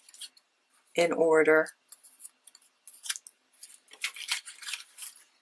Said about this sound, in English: And then I cut out my shapes